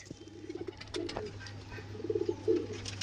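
Red zeeria pigeons coo in a loft, a few soft rolling coos rising and fading close by, with light rustling and background noise between calls.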